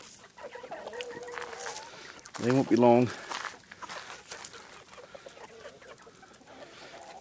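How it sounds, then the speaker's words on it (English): Chickens and small roosters cluck and squawk around feeding time on a farm, with a short loud burst of rooster calls in the middle, while someone talks nearby over the flock. "There's a couple little roosters in there."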